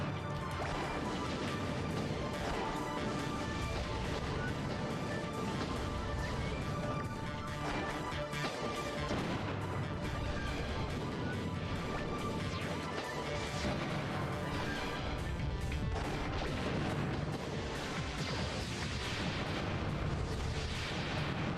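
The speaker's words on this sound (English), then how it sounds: "Switch right up into Ray, bring in the needle gun, go to town with it." Robot combat in the video game Custom Robo with a needle gun firing, heard as loud, dense, continuous shots and crashing impacts over game music for the whole stretch.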